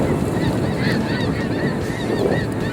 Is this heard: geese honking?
yes